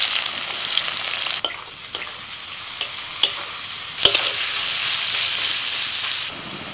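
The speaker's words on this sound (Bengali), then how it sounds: "ফোড়নটা একটু ভাজা হলে দিয়ে দিচ্ছি পেঁয়াজ কুচি।" Chopped onion fries in hot oil in a wok, a loud steady sizzle with sharp scraping stirs and clinks of the spatula every second or so, no voices over it.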